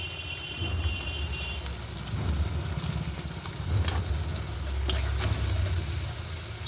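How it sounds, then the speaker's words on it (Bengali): Chopped onions fry in oil with salt and turmeric for a chicken fry, giving a steady low sizzle with occasional scraping stirs throughout, close and moderately loud, with no voices. "পেঁয়াজটা আমি লাল লাল করে ভেজে নেব। এখানে দিয়ে দেবো নুন হলুদ পেঁয়াজে।"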